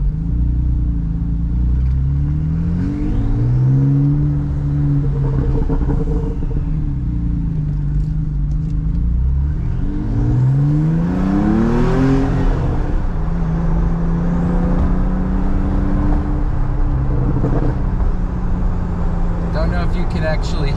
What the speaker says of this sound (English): could actually hear those pops and crackles coming out of the exhaust, but it's a lot more pronounced than in the OEM configuration.